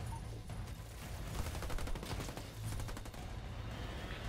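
Gunfire aimed at marines in Halo Wars 2, rapid sustained machine-gun bursts and scattered rifle shots rattling on at a moderate distance, fairly quiet in the mix against the game's battle noise.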